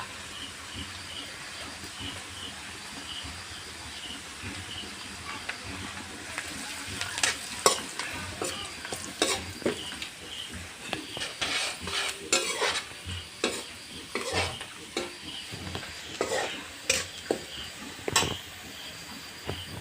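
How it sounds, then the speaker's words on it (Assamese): Onions frying in a pan as turmeric powder is stirred in, a steady sizzle under repeated scraping and clinking of a spoon against the pan, growing busier partway through, with no talking. "এতিয়া ইয়াত পিঁয়াজখিনি ৰঙচুৱা হৈ গ'ল। ইয়াত মই এতিয়া 2 চামুচ হালধি গুড়া দিম।"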